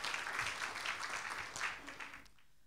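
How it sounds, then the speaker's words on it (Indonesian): Congregation applauding during a church worship service, a broad wash of clapping that fills the space for about two seconds and then fades out quickly. "Boleh kasih tepuk tangan buat Tuhan kita?"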